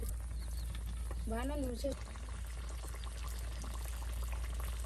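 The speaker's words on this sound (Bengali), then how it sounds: "দেখুন বন্ধুরা, কত বৃষ্টি হচ্ছে," Steady rain falls on a rural village day, making a continuous wash of patter while a voice briefly speaks over it near the start.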